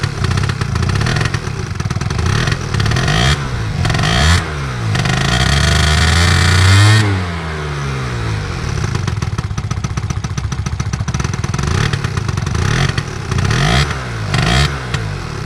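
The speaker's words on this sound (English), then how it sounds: "So this is an all-stock 2021 genuine scooter company Buddy 50." A stock 2021 Genuine Buddy 50 scooter's small engine runs loud and close, with repeated throttle blips and a sustained rev that climbs and falls midway, then settles back to a rough, clattery idle between sharp revs.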